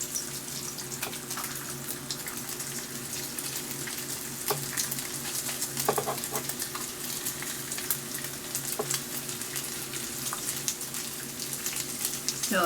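Strips of bacon sizzle steadily on an electric griddle, a dense continuous frying crackle with occasional louder pops, close and alone without talk.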